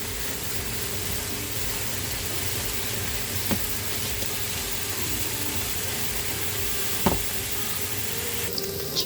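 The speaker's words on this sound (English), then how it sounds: "Add in a teaspoon of hot water so the potato can cook a little bit" Potato cooking in a pan with a splash of hot water, a steady moderate sizzle and hiss running throughout, with a couple of faint clinks, no talking.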